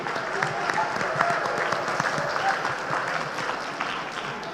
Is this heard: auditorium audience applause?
yes